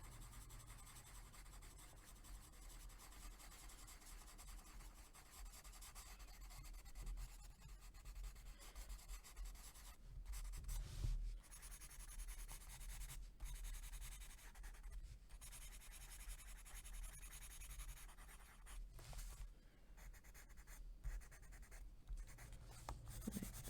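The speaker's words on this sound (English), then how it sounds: "take the blender pencil and just blend in any sort of lines that I think need to be smoothed out" A blender pencil rubs across paper to smooth drawn lines, a continuous soft scratchy scrubbing with short strokes and brief pauses, close and quiet.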